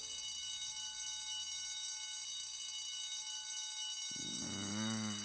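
An alarm clock in a visual novel game blaring like a fire alarm, a continuous harsh electronic tone that suddenly shifts into a louder warbling ring near the end, with no voices.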